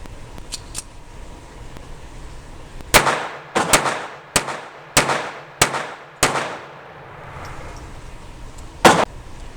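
A Jennings J-22 pistol fires Fiocchi ammunition outdoors. There is a faint pair of pops first, then a run of about seven loud, sharp, close shots at irregular intervals, and one more shot after a pause.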